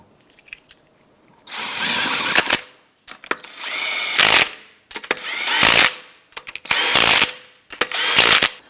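A power tool snugs down wheel lug nuts on a 2004-2009 Subaru Outback, running in five loud whirring bursts of a second or so each, separated by short pauses and light clicks.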